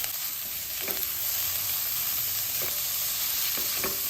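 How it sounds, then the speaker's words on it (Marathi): Onion and coriander stems sautéing in hot oil in a wok, an even close sizzle with a few soft scraping stirs spaced through it, no voices. "आता आपल्याला हे कांदा परतून घ्यायचा आहे त्याच्यामध्ये कांदा घालते आहे"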